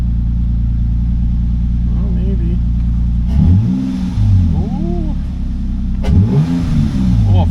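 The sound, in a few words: 2003 Nissan Pathfinder engine running after valve cover job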